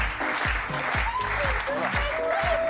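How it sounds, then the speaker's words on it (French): A French TV studio audience applauds guests entering, a steady wash of clapping under a rhythmic, booming musical beat with rising synth tones. "Applaudissements pour eux."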